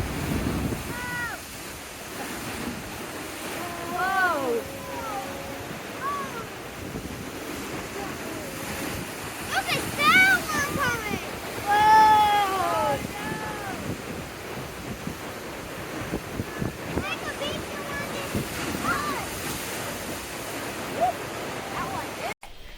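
Ocean waves surge and crash at Thor's Well on the Oregon coast during high tide, a broad roar with heavy wind buffeting the microphone, and voices talking over it at times.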